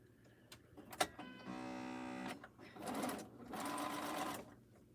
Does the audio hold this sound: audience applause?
no